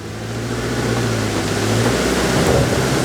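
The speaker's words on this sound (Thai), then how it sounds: "ลองดูฝน โอ้ฝนแรงโคตร" Heavy rain drums on a Subaru XV 2.0i-P under way, a dense wash of rain and road noise building slightly louder over a low engine drone, with no talking.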